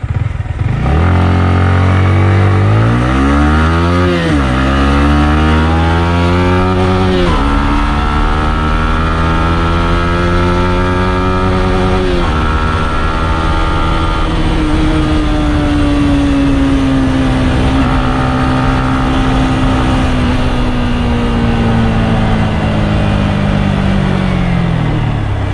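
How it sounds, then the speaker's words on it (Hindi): Yamaha MT15 BS6 motorcycle revved hard while being ridden, the engine note climbing and dropping through repeated gear changes, loud and close with no talk. "तो बाइक की साउंड कुछ ऐसी है, R15 साउंड है, बट थोड़ी स्मूथ है"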